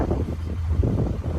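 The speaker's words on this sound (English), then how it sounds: "it's quite windy here in Ottawa this morning" Gusty wind buffets a microphone on a downtown Ottawa street in the early morning, producing a low, uneven rumble with short surges.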